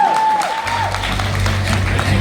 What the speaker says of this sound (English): Let's welcome her with a big round of applause, ladies and gentlemen.